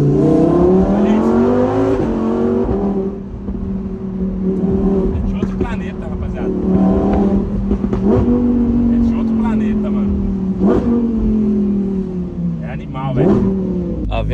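Lamborghini Aventador with a V12 engine idling and revving loudly near a beach, a deep steady drone with several throttle blips, while people talk over it.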